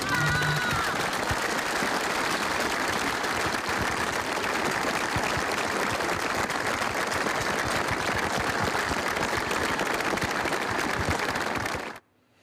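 Mourners applauding outdoors as a funeral procession leaves for the cemetery, a dense continuous wash of clapping from a crowd that carries on steadily before cutting off abruptly.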